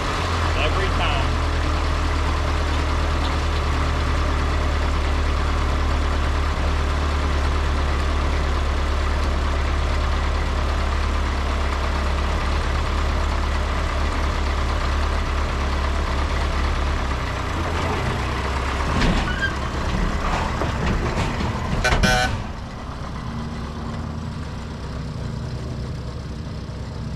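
A 1932 Austin car engine idles steadily after starting, a close, low, continuous rumble that runs for many seconds, with a brief clatter near the end before it drops quieter, while people talk.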